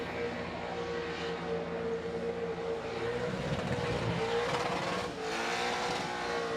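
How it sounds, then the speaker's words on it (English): A loud race car engine roars continuously, its pitch shifting as it accelerates and passes, with no voices. "Lots of noise and speed from this car."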